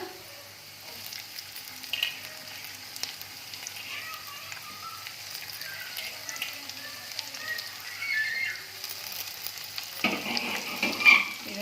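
Okra stir-fries in a pan with a soft, continuous sizzle and light crackle, faint at first and growing a little busier toward the end, with a voice talking over parts of it.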